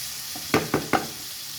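Beef being stirred in a frying pan: three quick scraping strokes in a row over a faint sizzle, close and with no speech.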